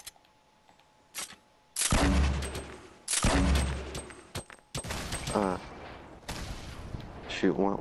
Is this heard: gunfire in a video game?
yes